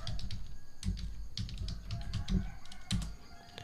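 Quick, steady keystrokes on a computer keyboard while text is typed into Notepad, a run of close, crisp clicks with a few slightly heavier taps and no voices.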